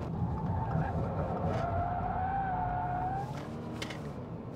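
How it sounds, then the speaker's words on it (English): Steady low tire and road roar inside a 2024 Subaru Impreza RS at speed, a continuous even hum filling the cabin with a faint tonal whine drifting over it. "Road noise is a little pervasive in this vehicle."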